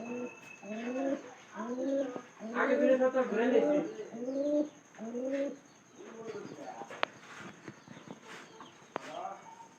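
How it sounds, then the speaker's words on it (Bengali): A pigeon repeats close, throaty coos in a regular rolling rhythm for several seconds, then goes quiet as softer clicks and rustles take over. "আজকে আমি এই পায়রাটার ডাক মানে একটু আপনাদের সামনে দেখানোর জন্য আর কি ভিডিওটা করতেছি"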